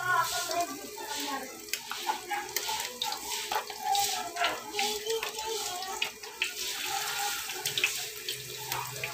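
Dilis anchovy fritters frying in oil, a busy crackling sizzle with bubbling spatter and occasional utensil scrapes, close and steady throughout.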